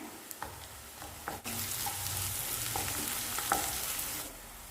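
Onions frying in a pan with ginger garlic paste for a paneer gravy: a few light stirring clinks, then a steady, close, hissing sizzle that holds for several seconds before easing off, with no talk.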